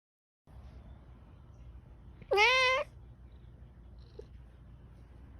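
A part Maine Coon cat lets out a single loud, drawn-out meow of about half a second in a quiet room, followed by low background rustle.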